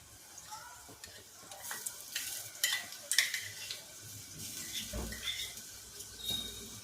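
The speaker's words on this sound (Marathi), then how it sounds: "आता त्याला आपण तेल सुटेपर्यंत छान आपला मसाला छान परतून घेऊया 5 मिनिट" Ground masala paste sautéing with onion in a pan, a quiet irregular sizzle broken by scraping stirs and light clinks of a spoon against the pot.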